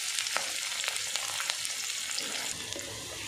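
Onions and green chillies fry in hot oil in a kadai for a cauliflower curry, giving a steady close sizzle with a few sharp spatula scrapes and crackles.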